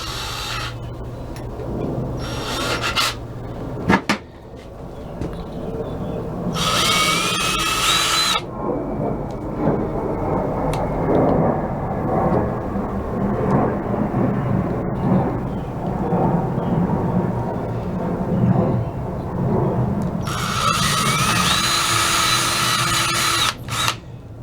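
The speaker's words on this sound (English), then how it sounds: "drill a hole so that the zip ties fit through." Power drill boring a hole for zip ties on a red and black motorized bike, with several bursts of high whining drilling separated by quieter stretches of low handling noise and rumble.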